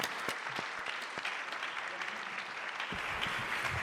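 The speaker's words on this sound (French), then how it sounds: "on les applaudit tous et toutes" Audience applause closing a French cultural-patronage round-table, a steady wash of many hands clapping throughout, moderately loud and fairly even, with no talking over it.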